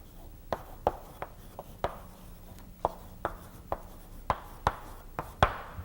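Chalk taps and strokes on a board in a linear algebra lecture, a dozen sharp knocks in an irregular rhythm, fairly close and clear with no talking.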